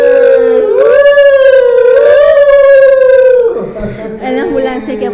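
An ambulance siren wails loud and close, a sustained rising-and-falling tone that dips near the end, with crowd chatter and voices outside a Mexico football match broadcast.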